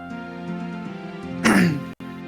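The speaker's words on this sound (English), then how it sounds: "You hear her coughing in the other corner?" A woman coughs once, a short harsh burst heard during a tabletop role-playing game session, following a stretch of low steady background tones.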